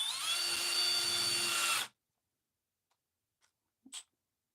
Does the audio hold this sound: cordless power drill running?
yes